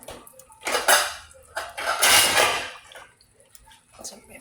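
A lid clatters onto a cooking pot of eggs in water, several metallic knocks and rattles in short bursts before settling quiet.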